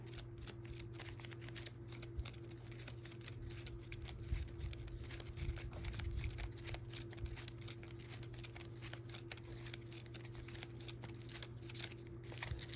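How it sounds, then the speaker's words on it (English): Cards from a Transformers deck-building game being shuffled by hand, a soft continuous riffling and patter close up, quiet against a steady electrical hum. "We're going to shuffle them up."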